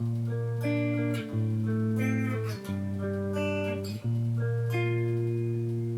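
An electric guitar plays a short section from a song, sustained notes ringing and shifting between chords, close and steady with no talking.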